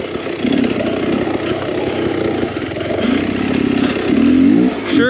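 An enduro dirt bike engine drones loud and close while riding a trail, holding a steady buzzing note with small surges in revs and rising toward the end.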